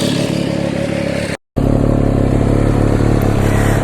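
An MV Agusta F3 motorcycle fitted with a new legal aftermarket exhaust, a loud close engine drone with a clattery edge that cuts out briefly, then returns to a steady running rumble.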